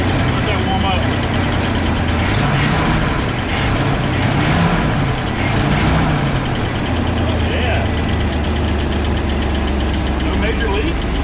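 A Chevrolet C10 squarebody truck engine idles steadily and loudly up close, a low rumble with a faint rhythmic lifter tick running through it, while a person talks over it.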